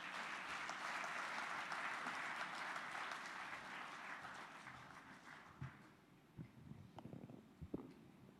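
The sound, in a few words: applause for Bishop Sunday Unowa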